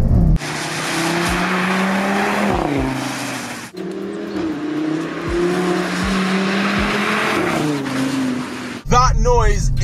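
An Audi RS3's engine roars loudly and continuously while driving, its pitch climbing through gear changes with brief cuts between shifts, and a voice breaks in at the very end.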